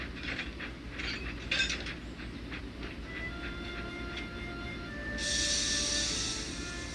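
A cartoon steam engine hauling wagons runs along the track, with a steady rumbling chug, light clicking and mechanical rattles, ending in a brighter hiss of steam.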